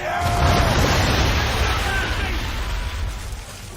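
Musket volley firing in Assassin's Creed 3, a loud crackling burst of many shots at once decaying into smoky rumble, with shouting voices mixed in.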